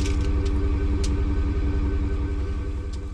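A pickup truck engine idles steadily nearby with a continuous low, loud rumble and no voices, with faint clinks briefly audible over it.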